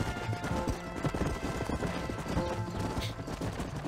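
Horse hooves gallop in a rapid, continuous clip-clop in the Red Dead Redemption video game, loud and steady throughout, with a faint whinny and game background sounds mixed in.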